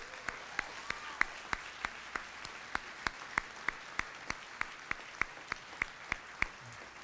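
A small audience at a senior sports banquet gives a thin round of applause, a few distinct claps ringing out at a steady, evenly spaced rhythm over a quiet room hush.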